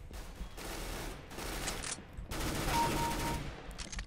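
A P90 submachine gun in Counter-Strike: Global Offensive fires long rapid bursts close by, a continuous rattling stream broken by short pauses.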